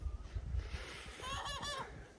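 A bird giving a rooster-like call outdoors on a road trip, a short honking, crowing cry rising then trailing off over low rumbling background, fairly close.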